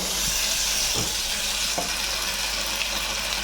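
A pointed gourd dish fries in a pan, giving a steady, close and loud sizzle with a few soft scraping stirs, and no voices heard.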